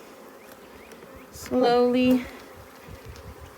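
A honeybee buzzes close by for about half a second during the transfer of frames into a nuc hive, a loud, wavering drone over quiet handling noise, with a few soft spoken words.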